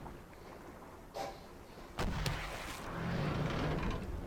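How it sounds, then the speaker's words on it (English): Ship cannons fire in the pirate naval game Pirates of the Burning Sea, a muffled boom followed by a louder cluster of blasts and a rumbling roll that lingers over wind and water. "You could fire all cannons on both sides, or you could fire them individually"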